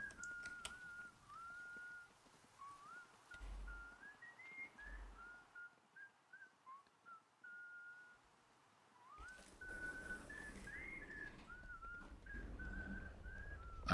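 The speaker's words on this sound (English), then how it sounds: "I can hear him whistling." A person whistles a wavering tune in the video game Atomfall, a steady thin melody at moderate level over low ambient rumble and a couple of soft thuds, with a louder noisy stretch near the end.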